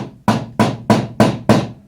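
A hammer strikes a stubborn ring nail on a wooden Catalina Wherry boat build, five sharp, evenly spaced blows ringing close and loud with brief decays, no talking.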